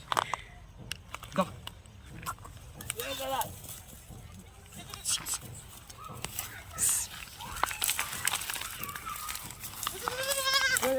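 Goats bleat close by, several wavering cries scattered through the clip amid rustling, handling noise and people talking nearby.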